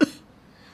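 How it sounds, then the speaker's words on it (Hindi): A single short cough from a man in a Hindi-language animated family drama, one sharp burst at the start that quickly fades to near silence. "आपको बड़ी खांसी आ रही है।"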